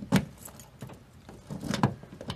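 Car keys jingle in a few short metallic bursts, one near the start and another brighter rattle toward the end, close by in a quiet room with no talking.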